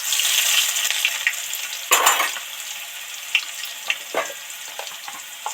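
Crushed garlic drops into hot oil for a coriander fish curry, a steady frying hiss that flares with a burst of sizzle, then settles with a few scattered spatters and stirring clicks, close by.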